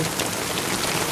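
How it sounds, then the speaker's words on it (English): Small hail and rain patter densely and steadily on the open Wyoming plains, a close, even drumming with no voices in this brief stretch. "they come upon a rainstorm like this and they're getting pelted with hail"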